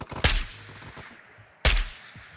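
Two loud Galil rifle shots in Ghosts of Tabor, each a sharp close crack with a short echoing tail, about 1.4 seconds apart.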